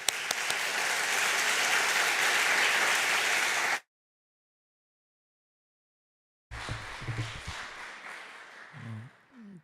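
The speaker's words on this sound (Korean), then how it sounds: "총회장님 나오실 때 우리 박수로 한번 환영하겠습니다." A church congregation at a Sunday worship service claps to welcome the general assembly president, a full burst of applause that stops abruptly, followed after a silent gap by quieter clapping with murmuring.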